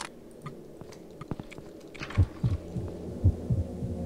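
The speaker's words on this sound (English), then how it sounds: "We got some heartbeats going on." Heartbeat effect in the horror video game Afraid of Monsters: slow, thudding low double beats repeating steadily beneath ambient game hum and scattered clicks, without speech.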